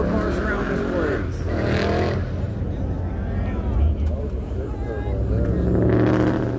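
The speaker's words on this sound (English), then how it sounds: "I didn't know there were that many turbo cars around this place." Turbocharged cars rumble past one after another on an old-school cruise strip, the engine roars rising and fading near the listener, with people talking over them throughout.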